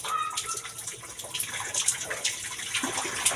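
Tap water runs into a kitchen sink while a bowl is washed, a steady splashing stream with small clatters and splashes, moderately close and fairly quiet.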